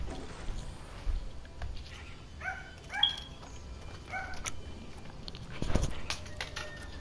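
Faint, scattered barks and yips from a dog, a few short calls in the middle over a low background hiss.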